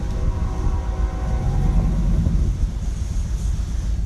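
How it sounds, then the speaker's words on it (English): A car engine runs alongside a neighbour's lawn mower cutting overgrown grass, a steady low rumble with a droning mechanical hum that continues unbroken throughout. "you can probably just hear my car and the guy mowing his jungle of a lawn next to me"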